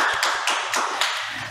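A church congregation claps briefly in encouragement, a short burst of quick, bright hand claps that fades after about a second and a half, with no voices over it.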